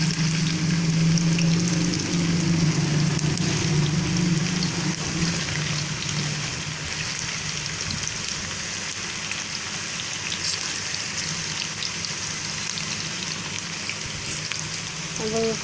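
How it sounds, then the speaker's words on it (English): Koftas sizzling and frying in about two cups of oil in a frying pan, a steady dense crackle with no talking, slightly louder at the start. "And we will fry it until brown."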